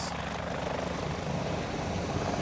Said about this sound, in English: Not by horse, but by helicopter.